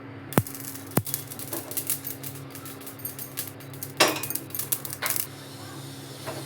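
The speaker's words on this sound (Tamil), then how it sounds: "கடுகு பொரியட்டும்" Mustard seeds spluttering and popping in a dry pan with no oil, sharp crackles and small pops scattered irregularly over a steady low hum, with denser bursts near the middle and end.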